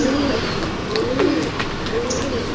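Pigeons in a small home loft in Kolkata coo in soft, repeated rolling phrases over a constant background hiss, with faint chirps and clicks in between.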